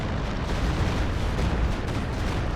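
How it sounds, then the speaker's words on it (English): Stuka barrage in Company of Heroes 2, a dense, continuous roar of explosions and booming impacts, loud and rumbling without a break. "But maybe a Stuka barrage will fix things?"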